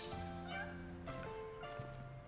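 Cat plushie meowing in the video game Escape Simulator: a couple of drawn-out, tonal cartoonish meows, clear and close, over a steady game background.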